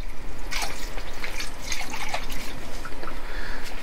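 Water runs steadily into a crockpot stew pot with a bright trickling, splashing texture, continuous and close throughout, about 3 cups filling it.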